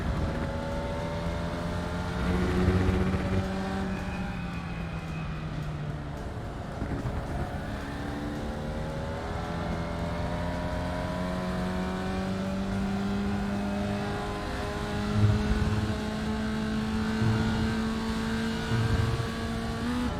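Formula Vee race cars drive and downshift on a track, engines droning steadily with rising and falling pitch sweeps and brief revs, heard from inside a car, continuous and fairly loud with no talking.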